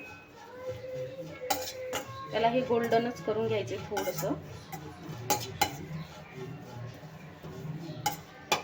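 Grated coconut stirred continuously in a steel kadhai, the utensil clinking and scraping against the steel in irregular strokes beneath someone speaking throughout.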